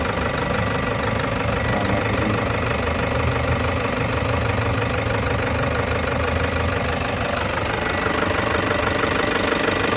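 Toyota Hiace 1KD diesel engine running rough with a misfire, shaking and low on power: a continuous close, loud idle with uneven knocking pulses and vibration throughout ten seconds, no speech.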